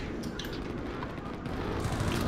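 Gunfire in the video game Battlefield 3, a rapid cluster of fairly faint shots and bursts against a noisy battle backdrop, with no speech.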